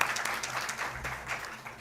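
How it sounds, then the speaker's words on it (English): Audience applause for three panel experts at a yoga leadership and entrepreneurship event, a dense patter of many hands clapping steadily for a couple of seconds, moderately loud and without talk. "Please give them a big round of applause"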